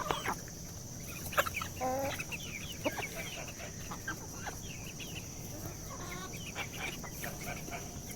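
Chickens cluck and chatter around a farmyard with droppings on the ground, several birds calling in short bursts over a steady hiss, at moderate distance and with no talking.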